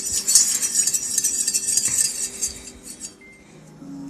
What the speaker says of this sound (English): And I'm going to mix this up real good.